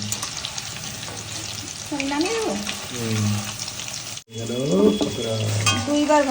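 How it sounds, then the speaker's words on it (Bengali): Pakoras frying in hot oil in a home kitchen give a steady, moderately loud sizzle with some clinking and stirring. Voices talk over it throughout. "পকোড়া ভাজা হয়ে গেছে"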